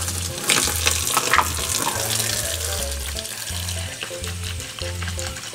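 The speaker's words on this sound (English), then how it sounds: "So, dilute na natin sa water." Tap water runs into a container to dilute a baby bottle wash, a loud, close, continuous splashing and gurgling flow that lasts throughout, with no talk.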